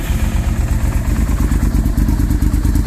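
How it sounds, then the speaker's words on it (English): A 1998 Honda VTR1000 Firestorm V-twin with twin exhausts burbles at idle, a loud, close, steady low throb with uneven lumpy pulses and no voices. "Love that big old V-twin burble."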